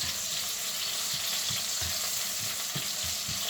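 Onion and garlic sauté in a hot pan for a sweet and sour dish, a constant close sizzle with soft rhythmic scraping and stirring taps underneath.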